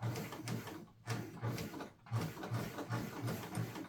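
A sewing machine stitches a quilted mug rug in short, close, moderately quiet runs of rhythmic mechanical thumping, broken by brief pauses.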